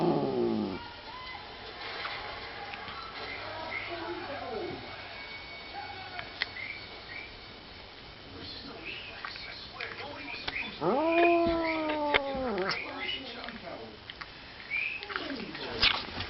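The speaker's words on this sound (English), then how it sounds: "Cats don't like Orajel." A cat in pain yowls and wails in rising, bending cries that grow louder toward the end, while a person speaks softly nearby between the calls.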